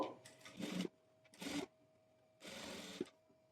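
An electric sewing machine stitches the side seam of a blouse in three short whirring runs, separated by quiet pauses, close and clear.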